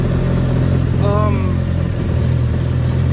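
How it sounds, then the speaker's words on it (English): A steady, loud boat engine idles close by with a constant low rumble, a brief warbling tone rising over it near the middle. "we've been idling a little bit here"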